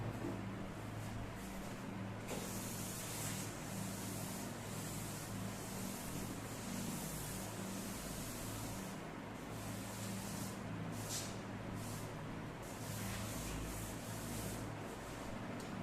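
A board is rubbed and erased during a chemistry lesson, giving a steady, dense scrubbing texture that continues for the whole stretch, fairly quiet and without talk.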